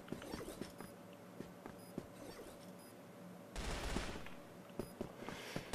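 Gunfire in the first-person shooter CrossFire: scattered single shots and footsteps-like taps build to a loud, dense burst of rapid fire midway, with no talking.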